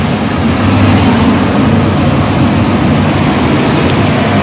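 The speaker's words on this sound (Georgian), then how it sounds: "ტრაქტორი მუშაობს" A tractor engine running with a steady low rumble and hum, loud and constant, mixed into a broad outdoor road noise, with nobody speaking.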